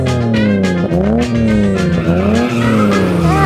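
Buggy engine whining and revving hard as its wheels skid while towing a stuck children's mini bike, a loud close engine tone with pitch sweeping up and down repeatedly, alone without talk.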